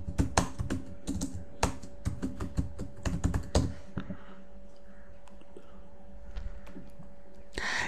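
Rapid clicky keystrokes on a computer keyboard typing a job-site search, close and crisp for about four seconds, then a few scattered soft taps and one final keypress.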